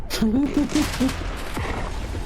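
Gunfire from a weapon in the video game Abiotic Factor: a loud, fast burst of shots at the start, then scattered bangs, with a voice speaking over the firing.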